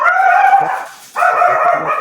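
A dog in the room during a comedy podcast lets out two drawn-out, vocal bursts separated by a short pause. The sound is loud and close, with no talk over it.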